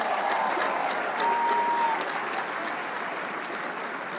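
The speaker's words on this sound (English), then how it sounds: "Can you clap for yourselves, please?" An audience applauding at a motivational speech event, a dense sustained wash of many hands clapping at even strength from start to finish.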